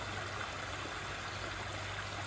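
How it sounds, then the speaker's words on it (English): Water pours steadily down a backyard waterfall, a constant broadband rush with a low hum beneath, uniform in level and with no voices. "We have a waterfall"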